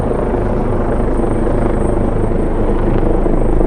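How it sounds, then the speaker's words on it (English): Helicopter passing directly overhead in downtown Toronto on a winter evening, a loud, steady rotor thump that fills the whole stretch with no one speaking. "That chopper is directly overhead."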